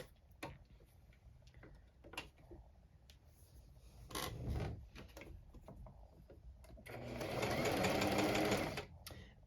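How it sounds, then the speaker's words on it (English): A sewing machine zigzag stitches elastic along the edge of a dress bodice, with short ticking starts and stops and a longer, louder run of stitching near the end; fairly quiet and close. "I'm just going to use my regular stitch length of a 2"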